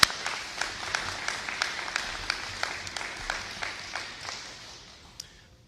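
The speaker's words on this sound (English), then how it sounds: "Let's give them all a round of applause." A crowd applauds guests, including wounded warriors from the Illinois National Guard, at a bill signing with Governor Pritzker. The clapping is fairly distant, with distinct sharp claps standing out over the wash, and it thins out toward the end.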